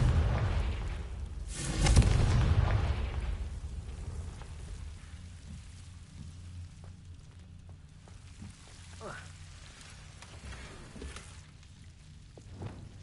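Confringo fire spell in Hogwarts Legacy, a single deep, booming explosion near the start that rolls off into a rumbling tail, followed by a quieter, crackling ambience like rain.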